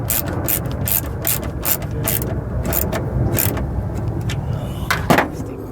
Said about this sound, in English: Let's go ahead and tighten this up.